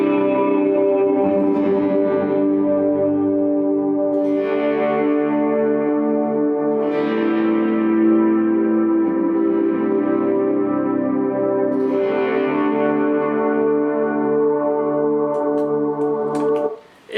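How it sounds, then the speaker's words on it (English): Electric guitar swells through a Big Sky reverb with Petty John Chime overdrive adding light dirt: a huge, sustained, shimmering wash of slightly gritty chords that bloom and fade into each other, loud and continuous, ending abruptly. "I'll put on the Petty John chime, and you'll kind of hear what it does with a little bit of dirt."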